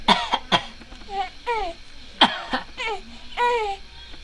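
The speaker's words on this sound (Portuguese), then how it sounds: "deu tosse na nenê?" A baby lets out several short, sharp coughs spread unevenly through the moment, mixed with brief voiced whimpers and babbling sounds, close and fairly quiet.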